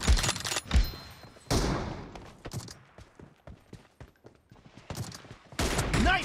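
Multiplayer video-game gunfire crackles in several sharp bursts, with rapid automatic volleys near the start and again at the end and single thuds between them, fairly loud against quiet gaps.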